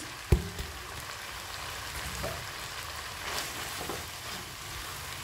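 Boiled noodles are tipped into a pan of frying vegetables and stirred, starting with a sharp clatter and then a steady hiss of sizzling with occasional soft scrapes of the utensil, close and moderate in level.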